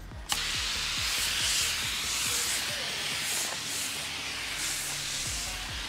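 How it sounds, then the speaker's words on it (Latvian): Snow foam sprayed onto a motorcycle from a hand-pumped pressure sprayer: a steady, close hiss runs throughout after a short initial click, with no speech. "Un klājam virsū putas."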